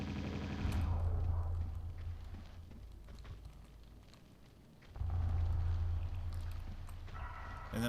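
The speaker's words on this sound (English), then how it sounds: "I'm going to pull out my Uzis" Twin Uzis fire in Tomb Raider 2 in the Catacombs of the Talion level: two sustained, rapid bursts of crackling shots a few seconds apart over a quieter ambient hiss.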